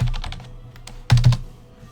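Quick run of close computer keyboard keystrokes typing a chat command in a game, a short cluster of taps followed by a couple of heavier key hits, alone and without talk.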